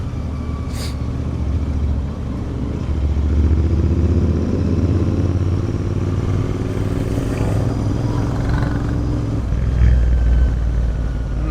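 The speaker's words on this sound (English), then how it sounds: "just engine warm up ride हो सकता है बस शायद ये" An 865cc Interceptor motorcycle drones steadily at close range on a warm-up ride, its low engine rumble swelling slightly at times, with faint rattles and wind noise mixed in.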